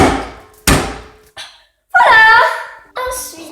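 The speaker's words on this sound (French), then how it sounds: "On peut aussi casser les œufs avec un marteau" A hammer knocks against eggs to crack them while cooking, giving a couple of sharp, close thuds followed by louder voiced sounds.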